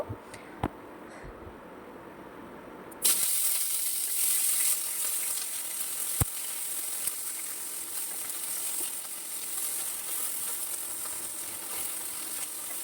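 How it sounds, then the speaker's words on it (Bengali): Drumstick (moringa) pieces dropped into hot oil in a kadai, a quiet stir and clink followed by a sudden burst of loud, steady sizzling frying that continues unbroken. "সেই গরম তেলে আমি এখন কেটে রাখা সজনেগুলো ভেজে নিব"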